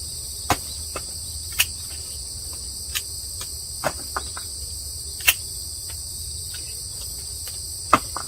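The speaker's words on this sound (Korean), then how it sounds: "이렇게 산새 소리, 벌레 소리 들으면서 수확을 하니까 아주 기분이 좋습니다" Insects chirp in a jack bean field in a steady high-pitched chorus, punctuated by occasional sharp clicks and taps from nearby harvesting, with no talking.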